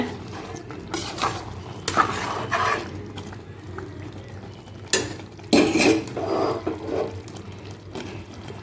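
A spoon scrapes and clanks against a pot while veg masala biryani is mixed, bursts of metallic scraping and rustling rice separated by quieter pauses, close by and with no talking.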